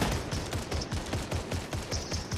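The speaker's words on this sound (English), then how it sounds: "Oh, he's shooting at me." Rapid bursts of gunfire in a Fortnite match, a dense, loud, rhythmic volley of repeated shots filling the whole moment with no talking.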